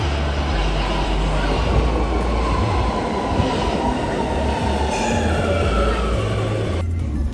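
An Amsterdam metro train running, with a loud steady rumble of wheels and motors inside the carriage, continuous and unbroken before a faint shift near the end.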